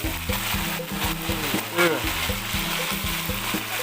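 Steady crackling sizzle of deep frying oil with pandan leaves, frying Khmer-style fried grasshoppers at Rong Kluea market, close and continuous, with faint voices and clinking underneath.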